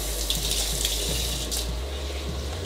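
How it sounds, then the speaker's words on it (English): Water runs steadily from a tap onto an old sponge to wet it, a continuous close splashing hiss with no speech, used for cleaning debris during maintenance of a Gryphon diamond wet band saw. "just wet it with some water"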